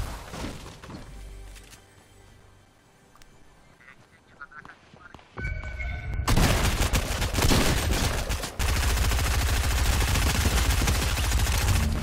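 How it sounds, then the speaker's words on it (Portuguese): Gunfire in the video game Fortnite: scattered shots at first, then dense rapid automatic bursts that grow loud and continuous, with a brief pause before firing resumes. "Opa, tá rolando tiro aqui já."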